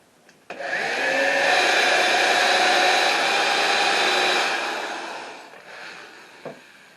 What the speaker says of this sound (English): Then be sure to countersink those holes for your screws.